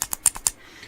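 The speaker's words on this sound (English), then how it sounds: "the button itself is pretty decent. You have a reasonable click." Fire button on a Joyetech Cuboid 200 vape mod pressed repeatedly: five quick, crisp clicks in under half a second, close and fairly loud, slightly tinny.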